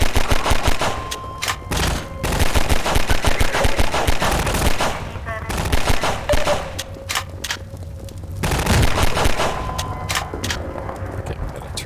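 Turret machine gun in Half-Life 2 VR spraying loud rapid bursts of gunfire in several long volleys separated by brief pauses, with booming impacts and a few faint voices between.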